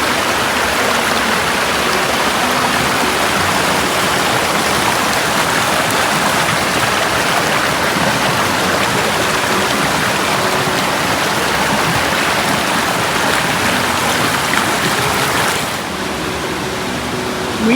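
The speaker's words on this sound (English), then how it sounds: "I think this is the start of the cascade." Cascade des Anglais on a hike in Corsica: a steady, dense rush of falling water that fills the whole stretch, loud and continuous, easing slightly near the end, with no voices.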